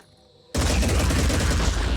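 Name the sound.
weapons firing in the video game Phoenix Point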